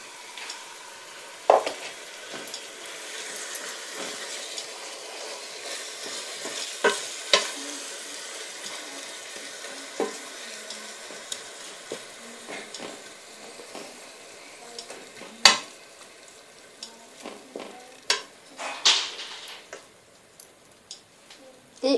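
Golden onions and finely chopped tomatoes sizzle steadily in a pan for chicken biryani, with a spoon scraping and clicking against the pan in irregular stirring strokes, close and moderately loud.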